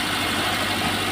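A car engine idles steadily during a conventional ignition timing check, a loud, even low rumble with constant vibration and no voices.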